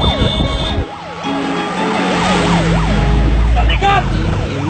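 An ambulance siren wails in repeating rising and falling sweeps, loud and close, over a low rumble of traffic, with a voice briefly audible near the start.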